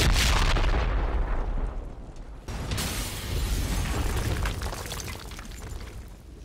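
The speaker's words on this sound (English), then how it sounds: "Grenades out, somebody's grenade." Grenade explosion in the military shooter Project Reality, a loud close blast that decays into a long rumbling, crackling tail with scattered mechanical rattles, no voices over it.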